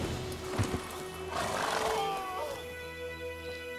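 Roach, the horse in The Witcher 3, gives a neigh-like call amid a low droning game ambience, fairly close and moderately loud, with no talking.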